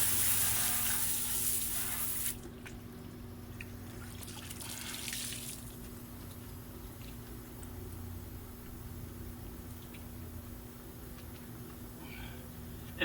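Water spraying steadily over a car wheel as it gets wetted during cleaning, a continuous hissing wash that is louder at first and then settles into a softer constant spray.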